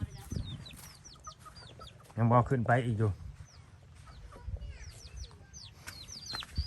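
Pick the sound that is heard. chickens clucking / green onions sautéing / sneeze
chickens clucking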